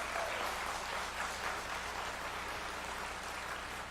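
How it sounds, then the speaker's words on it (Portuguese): A church congregation applauds in a steady, faint wash of clapping that stays even throughout the moment. "dá uma salva de palmas ao Senhor."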